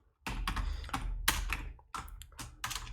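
Steady, fairly loud typing on a computer keyboard, with rapid clustered keystrokes and a short gap before more taps, ending in a press of the enter key.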